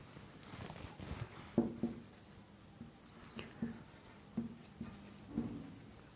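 Marker or chalk writing on a board during an English grammar lesson, soft scratchy strokes with light taps as letters are formed, close but quiet, with no talking.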